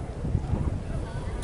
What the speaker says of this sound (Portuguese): Muito vento aqui